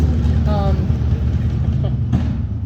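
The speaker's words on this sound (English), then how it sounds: "Oh, a whole herd of motorcycles." A group of motorcycles passing by outdoors: a steady low engine rumble holds throughout, loud and close, with a person talking over it.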